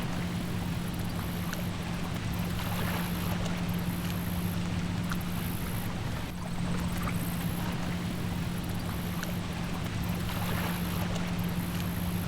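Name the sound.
water moving through the canal in Seville plaza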